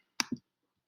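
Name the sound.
computer mouse clicking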